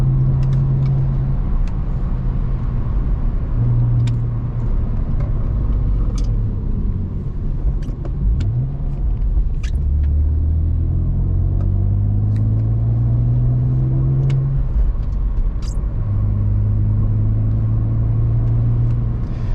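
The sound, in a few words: BMW E46 car driving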